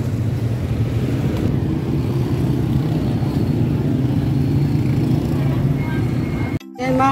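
A motorized tricycle engine idles steadily up close, with a constant low rumble that runs the whole time. It cuts out briefly near the end.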